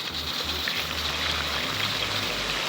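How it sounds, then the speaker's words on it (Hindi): Water is poured into a pan of garlic and ginger masala with tomato while cooking meat, a continuous close splashing and sizzling gush with no voices. "और हम थोड़ा सा पानी ऐड करेंगे ताकि जो हम मसाले ऐड करें वो जले नहीं"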